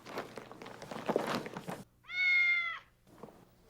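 A single clear cat meow rises and falls after some soft shuffling and handling noises, close and fairly quiet.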